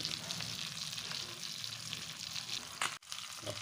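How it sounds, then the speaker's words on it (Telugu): Pomfret and other fish pieces sizzle steadily in hot oil, a constant close crackle throughout with a brief utensil knock near the end. "2 చిన్న చేపలు అలాగే 1 పాంప్లెట్ ఫిష్ అలాగే రవ్వు చేప పీసెస్ ఫ్రై"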